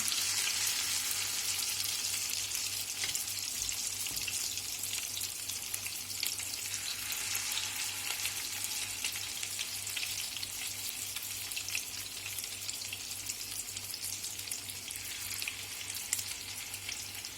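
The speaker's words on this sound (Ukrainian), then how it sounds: "І продовжуємо смажити далі. Тут у нас звільнилося місце на сковорідці." Ground-chicken patties fry in a pan with a steady, dense sizzle that holds evenly throughout, loud and close, with no voices.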